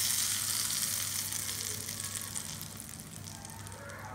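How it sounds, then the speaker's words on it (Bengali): Hot tempering of curry leaves and crackled mustard seeds poured over chutney, a strong close sizzle that slowly fades, ending with a small clink. "কারি পাতা আর সর্ষেটা ফুটে গেছে, আমি আবার ফোড়নটা চাটনির উপর ঢেলে দেবো"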